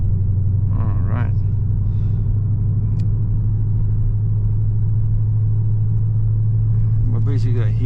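Car rolling slowly into a lodge area along Wildlife Loop Road in Custer State Park, South Dakota: a steady low engine and road rumble throughout, with brief voices near the start and end.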